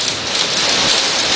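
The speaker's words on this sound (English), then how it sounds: "hear the hail?" Heavy rain and hail pour down in a Florida thunderstorm, a loud, dense, steady hiss of drops striking surfaces close by, with no voices.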